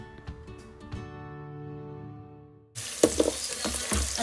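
Garlic hits a hot pan for squid adobo, bursting into a loud, close sizzle with spatters and stirring after a few seconds of quieter tonal sound.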